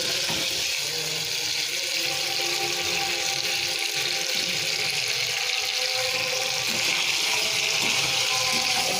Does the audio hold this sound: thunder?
no